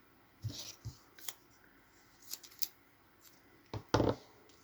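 Scissors snip through double-sided tape in a few short, crisp cuts spread across the clip, quiet and close, with small handling rustles between them.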